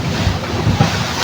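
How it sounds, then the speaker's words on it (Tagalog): Loud, steady rush of ocean surf with wind buffeting the microphone, waves surging and breaking close by with no voices. "Napakaganda, napakalakas po ng alon."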